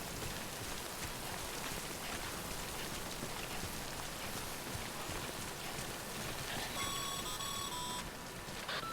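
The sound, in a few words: rain in the video game Death Stranding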